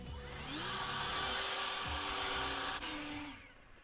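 A leaf blower blasts grass clippings off lawn edges to leave a sharp line, a loud steady whooshing roar with a whining motor tone, close by, easing off toward the end with no talking.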